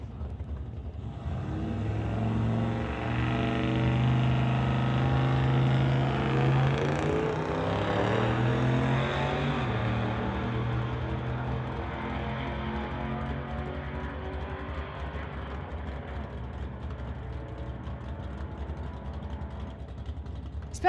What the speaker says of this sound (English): Great burnouts from both of them.